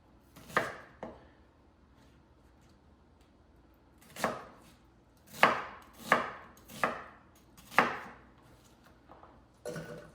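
A knife chops onion on a cutting board in a few sharp, separate knocks, single strikes spaced out and then a quick cluster of four, close and clear against a quiet background.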